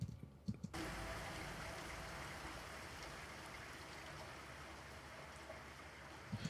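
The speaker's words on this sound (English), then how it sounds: "I got the rain in the background." Steady rain pours down in a continuous soft hiss, with scattered drops tapping, in a song; it starts abruptly after a brief quiet moment.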